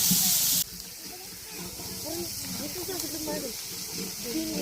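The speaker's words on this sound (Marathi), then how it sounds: "आता कांद्यामध्ये तेल टाकलं आधी चांगला कांदा भाजून घेतला आणि त्याच्यानंतर त्याच्यामध्ये तेल टाकलं" Oil hissing over onions in a pot on an open wood fire in a forest, a steady sizzle that starts with a loud burst and runs on beneath voices talking nearby.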